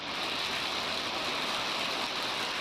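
Steady, dense monsoon rain pours down over farmland villages near Junagadh, Gujarat, a continuous loud hiss with no breaks and no voices.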